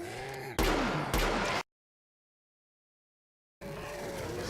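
Loud, dense bursts of automatic fire from the M7A3 rifle in the video game Killing Floor, two sustained volleys in quick succession, then a sudden dead silence before the game's ambient noise returns.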